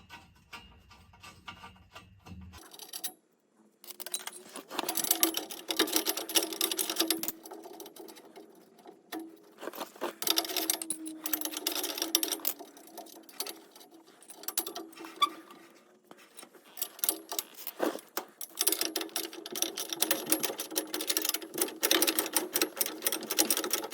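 Bolts being loosened on a tractor exhaust with a wrench or ratchet, giving a close, dense run of quick clicking and metallic patter in several stretches with short pauses, with no talk.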